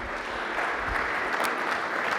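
Audience applause at a basketball analytics talk, a soft, even wash of clapping heard from a distance with no voices over it.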